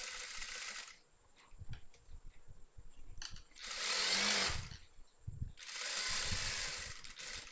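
A sewing machine stitches a chudithar in several bursts of rapid whirring, separated by quieter gaps filled with handling of the cloth and small clicks, heard up close.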